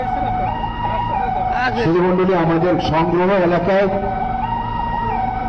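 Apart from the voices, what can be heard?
ambulance siren at airport emergency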